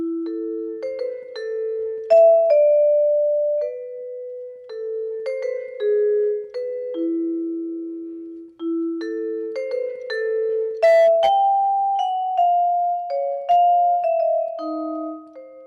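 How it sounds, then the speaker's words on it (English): A vibraphone's mellow metal bars struck in flowing legato lines using the pedal, notes ringing into one another with a smooth sustained blend, clear and close. "The vibraphone has a very round sound, and by using the pedal, I can create legato passages"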